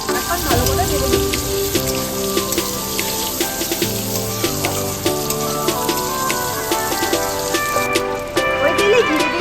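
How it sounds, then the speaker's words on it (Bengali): Tomatoes fry in hot oil in a wok with salt and a little turmeric for an egg curry, giving a steady dense crackle and sputter throughout, with voices and music-like tones on top. "কড়াইতে তেল দিয়ে দিচ্ছি, ওই তেলে টমেটোগুলো ভেজে নিচ্ছি"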